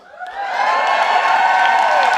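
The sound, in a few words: crowd cheering for First Lady Dr. Jill Biden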